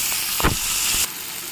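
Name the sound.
tomato added to pan and stirred, sizzling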